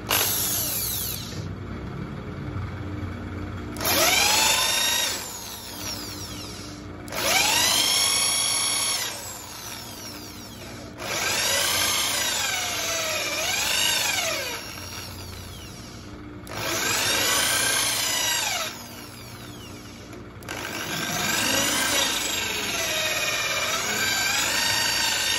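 A power drill grinds a kudu horn shofar in repeated bursts of a few seconds each, loud and close, with brief quieter gaps between them.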